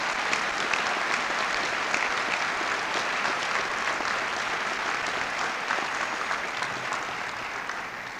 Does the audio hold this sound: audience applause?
yes